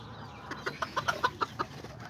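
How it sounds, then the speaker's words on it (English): Kikiriki and Azteca chickens and roosters cluck nearby in a quick series of about eight short, evenly spaced calls over quiet farmyard background noise. "Yeah, I like this chicken."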